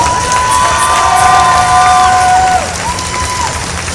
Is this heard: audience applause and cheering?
yes